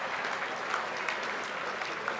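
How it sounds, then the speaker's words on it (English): A gala audience applauds steadily, a dense even patter of many hands clapping at moderate distance for a couple of seconds, with no voices over it. "Let's have a round of applause for all the people who are rushing to their seats."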